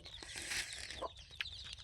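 Several country chickens cluck softly in short, scattered bursts, fairly quiet against a faint outdoor farm background with no voices.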